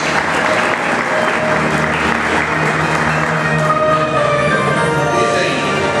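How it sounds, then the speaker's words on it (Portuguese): Loud, dense applause from an audience at a course awards ceremony, a sustained roar of many hands clapping together with a faint crowd murmur underneath. "Vamos aplaudir mais uma vez."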